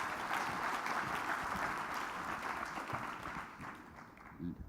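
A conference audience applauds the panelists at a business discussion, a fairly quiet, distant wash of steady clapping that thins toward the end.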